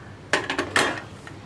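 A lid is set down on a pot of mutton curry in a home kitchen, giving a few sharp metallic clanks and rattles close by, then a brief faint clink as it settles.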